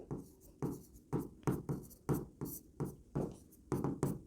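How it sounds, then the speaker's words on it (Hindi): Chalk or a marker taps and strokes across a classroom board in a regular series of sharp, brief marks about every half second, close and moderately quiet, with no speech over it. "तो हम लिखेंगे"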